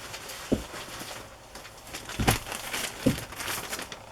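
Old loose paper pages and small papers from a flea market find rustle and crinkle as they are handled, with a few sharper crackles over a soft, steady background hiss.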